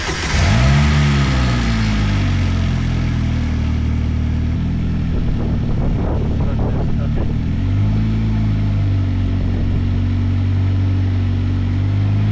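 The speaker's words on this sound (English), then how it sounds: "let's go ahead, start up the car" A car cranks and starts, its engine revs rising and falling, then settles and pulls away with a steady running note. Moderately loud and close, with brief talk partway through.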